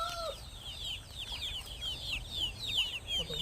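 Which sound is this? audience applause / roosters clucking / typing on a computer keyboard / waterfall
roosters clucking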